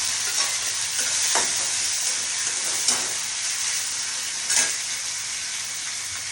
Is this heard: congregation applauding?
no